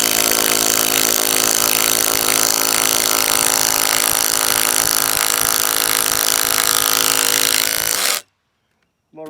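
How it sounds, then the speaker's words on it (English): A power tool drives lag bolts into a water slide's band board, making a loud continuous grinding whir that holds steady for about eight seconds and then cuts off abruptly. "I'm gonna run some lag bolts in."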